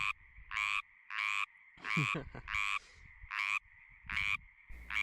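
A frog croaks close by in a rapid series of about eight loud, buzzy bursts, each separated by short gaps, with no other sound around it.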